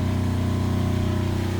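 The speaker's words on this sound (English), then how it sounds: "I don't know if you can hear the generator letting go of the load right now." A generator engine on a trailer hums steadily as it drops its electrical load, a low even drone with a constant rhythmic pulse, close and loud with nothing else over it.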